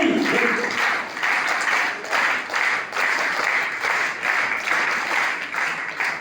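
A crowd of students and parents at a DAV school honouring ceremony in Nerul clapping in a patterned rhythm, bursts of many hands pulsing roughly once a second, loud and close, with no talk.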